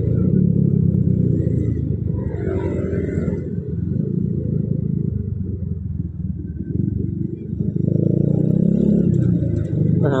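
A bored-up 147cc motorcycle with a stock valve and carburettor rides through narrow alleys, its exhaust giving a steady, moderately loud low rumble that swells again near the end, with no talk.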